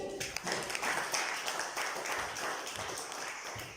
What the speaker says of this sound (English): Let us put a round of applause in welcoming DTL Harish Bhagavan uncle to the stage.